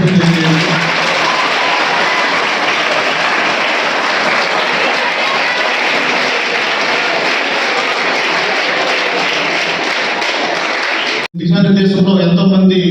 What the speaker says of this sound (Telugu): మనందరూ తరఫున గట్టిగా క్లాప్స్